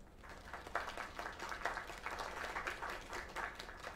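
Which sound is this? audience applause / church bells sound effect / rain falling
audience applause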